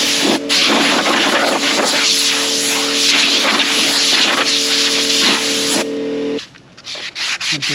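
Compressed air blows dust off an old wheel being sanded for refinishing, a loud continuous hiss for about six seconds that cuts off, followed by a few short bursts.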